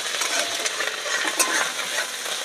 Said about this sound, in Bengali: এবার কড়ার মধ্যে আমি দিয়ে দেবো আদাটা,